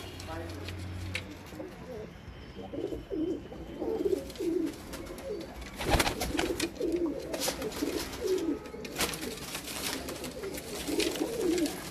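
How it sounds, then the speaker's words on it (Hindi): Pigeons coo repeatedly in soft, rolling phrases close by, while people talk over them throughout. "चलाएं असद भाई, 2-3 कबूतर पकड़ के ज़रा शौक करवाएं ज़रा इनको।"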